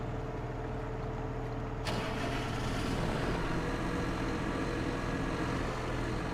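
A tractor engine in Farming Simulator 25 rumbles in a steady, low idle, loud and continuous with a slight rise partway through, and nobody talking.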